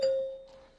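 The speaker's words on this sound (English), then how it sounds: "a bell will sound like this." A single debate timer bell strike rings out clearly with a steady, pure tone that slowly fades over under a second.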